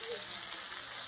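Seasoned meat sizzling on a barbecue grill, a steady broadband frying hiss filling the whole short stretch, close and fairly quiet with no clear voices.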